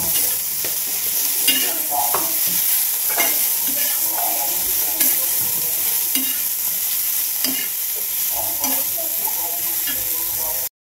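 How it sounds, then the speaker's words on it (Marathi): Chopped onions and tomatoes roast and sizzle in a pan, a steady frying hiss broken by frequent stirring scrapes and clinks throughout, close and moderately loud with no talking. "कांदा आणि टोमॅटो आपल्याला भाजून घ्यायचे चांगले परतून"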